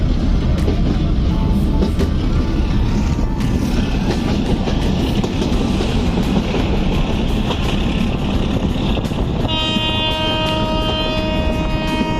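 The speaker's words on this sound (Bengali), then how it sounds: "এই লোকাল ট্রেনটি সব স্টেশনেই থামে" A Bangladeshi local train runs on the rails, a loud continuous rumble and rattle of wagons with clattering wheel noise throughout, and a high metallic squeal rising toward the end.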